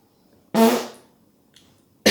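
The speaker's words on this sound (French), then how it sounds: "T'as pété encore." A fart breaks out loud and close, a broad raspy burst lasting about half a second, followed by a faint short rustle and the start of another abrupt burst.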